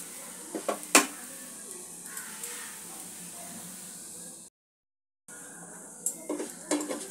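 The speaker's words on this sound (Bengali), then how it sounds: "আর একটা পিঠও হালকা করে একটুখানি ভেজে নেব, মিনিট খানেক মতো।" Thin chakli pitha batter fries in a pan with a steady close hiss and sizzle, a few sharp utensil clinks near the start and end, and a brief silent break midway.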